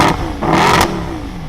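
A Mercedes SLS AMG's 6.2-litre naturally aspirated V8 revs hard twice in quick bursts, a loud close roar that settles back into a rumbling idle.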